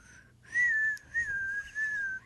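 A person whistles a sustained, wavering tune in three close, fairly loud phrases with short breaks, alone and without talk.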